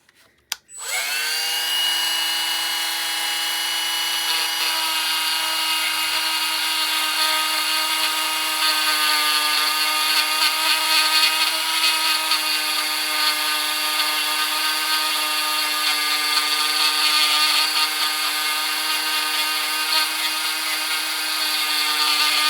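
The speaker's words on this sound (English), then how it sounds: "I'm going to just turn my Dremel on, and I'm going to start sanding underneath." A high-pitched Dremel rotary tool sanding a glass bottle whines steadily after a brief start, holding a constant grinding buzz with a faint scraping edge throughout, close and loud.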